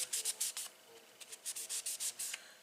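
A cleaning cloth rubs briskly over a pair of scissors in a quick series of short, soft swishing strokes, close and fairly quiet.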